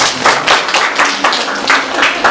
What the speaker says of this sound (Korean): 응원의 박수를 함께 드리도록 하겠습니다